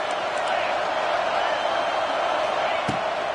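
A football stadium crowd roars steadily behind the defense on a big third down, a dense continuous wall of cheering with one short thump near the end.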